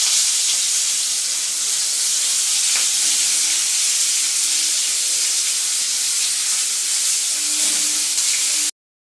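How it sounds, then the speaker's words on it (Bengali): Tomatoes fry in hot oil with panch phoron five-spice and dried red chilies for a tomato chutney, giving a steady, close sizzle that continues evenly for about nine seconds before cutting off. "পাঁচ ফোড়নের শুকনো লঙ্কা ফোড়ন দিয়ে টমেটোটা আমরা একটু ভাজতে দিচ্ছি"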